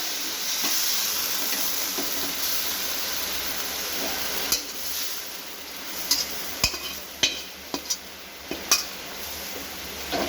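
Mixed leafy greens fry in a pan, giving a steady hiss with sharp scraping clicks from stirring that grow more frequent toward the end.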